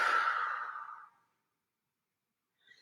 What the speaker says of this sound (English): you're just breathing deeply